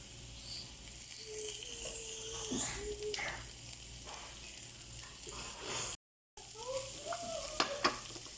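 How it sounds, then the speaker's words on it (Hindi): Chicken with garlic sautéing in a pan, giving a steady, close sizzle with faint stirring scrapes, a brief dropout near the six-second mark, and a few sharp clinks toward the end. "सॉटे करने देंगे और इसको बहुत लाल और क्रिस्पी नहीं करना है गार्लिक को। अब हम इसमें डालेंगे चिकन।"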